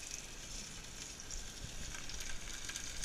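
Garlic-thyme steak sizzles and crackles in hot oil over medium-high heat, a steady close frying hiss throughout with no talk.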